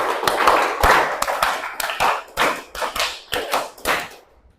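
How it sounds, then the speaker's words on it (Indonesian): A group claps through a rhythmic five-beat pattern, two on the left, two on the right, one in the middle, done three times. It gives a brisk run of close, sharp claps in clustered bursts that ends abruptly, and there is faint background voice. "Tepuk 5, 2 di kiri, 2 di kanan, 1 di tengah"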